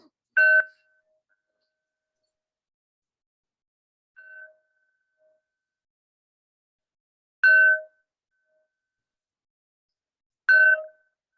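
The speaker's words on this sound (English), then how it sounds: "I'm going to do the bells for everyone" Small bells ring out in slow succession, four clear metallic strikes spaced several seconds apart, the second one softer, each decaying quickly into silence.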